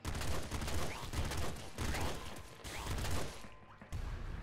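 Rapid, dense gunfire from a frost-bullet weapon in the top-down shooter Nuclear Throne, with a nearly continuous loud stream of shots and impacts that briefly drops out near the end before resuming.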